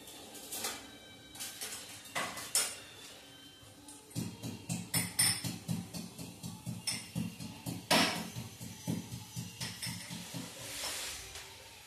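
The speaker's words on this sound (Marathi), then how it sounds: "मी लसूण ठेचून घेते।" Garlic cloves crushed by hand in a home kitchen, a few scattered knocks at first, then a quick, even run of around twenty close, solid pounding thuds with light clinks before the strikes stop.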